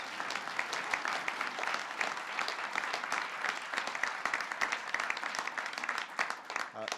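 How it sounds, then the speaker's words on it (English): Sustained applause from a large crowd at a presidential bill signing, dense clapping throughout at a steady level. "You can give him a round of applause."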